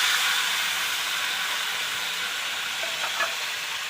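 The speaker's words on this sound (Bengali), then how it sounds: "প্রথমে মাংসগুলো ভেজে নেবে।" Marinated meat seasoned with salt, turmeric, oil and pepper frying in hot oil in a home kitchen, a steady loud sizzle and hiss with faint clinks near the end.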